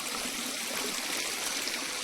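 Flowing stream water, a steady close rushing and trickling hiss with no voices.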